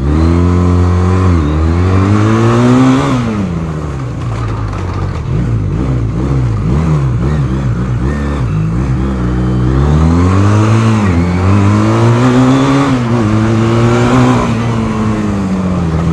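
A carburetted motorcycle engine revs hard and close, pitch climbing and falling in repeated surges, with sputtering idle between the loud bursts.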